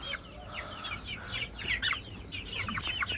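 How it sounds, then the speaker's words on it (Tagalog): Hen clucking in a backyard flock, short chirpy calls repeating irregularly at close range, with other birds' calls mixed in and no talk. "Ito naman yung ating isang inahin."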